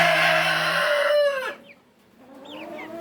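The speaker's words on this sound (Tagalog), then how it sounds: "Yan yung mga na-breed natin sa experiment natin, yung mga 5 sisiw." Five hybrid Rhode Island chicks: a loud, sustained fowl call that breaks off, followed by faint, high chirps.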